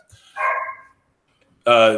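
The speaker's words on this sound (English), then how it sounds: "Shut up, dog." A dog barks twice, a softer muffled bark early on and then a loud, close, sharp bark after a pause of nearly a second.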